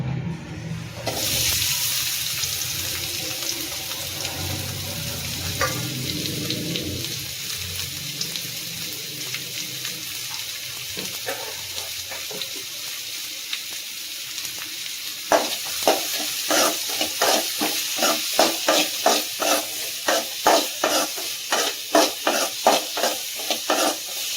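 Chopped onions hit hot oil in a pan and fry with a steady bright sizzle, followed by a run of rhythmic scraping stirs near the end; no one speaks.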